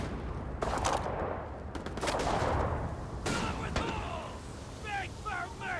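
Gunfire in the sci-fi video game Starfield: a few separate sharp bursts of shots cracking out amid a steady background din, with a voice speaking over part of it.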